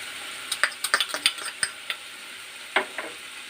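A spoon stirs grated coconut into a cooking mixture in a frying pan, giving a scattered run of sharp clicks and scrapes against the pan over a soft sizzle, with no talking.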